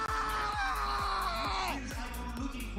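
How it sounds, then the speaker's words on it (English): A person screams in a scream-volume challenge during a League of Legends semifinals costream, a single sustained, loud, wavering yell that shifts pitch midway, with a rhythmic beat underneath. "Could we get a new scream now?"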